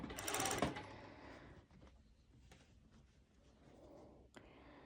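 Sewing machine stitching activewear fabric, opening with a loud, fast burst of stitching that drops after a second to quieter, intermittent machine noise and fabric handling, close by.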